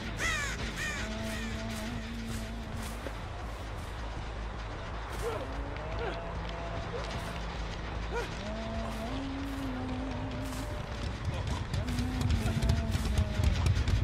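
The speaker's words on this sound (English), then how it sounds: "Why would a crow disappear in this area?" Crows caw in bursts over a constant low rumble of traffic and air brakes in a Huntress match, with a voice speaking through parts of it.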